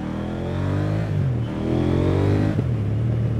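A KTM 890R Duke motorcycle fitted with an Akrapovic slip-on exhaust revs loudly and steadily close by, its engine note rising and falling across a couple of throttle blips with a sharp bark near the end.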